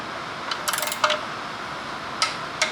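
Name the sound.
torque wrench clicking at 30 newton meters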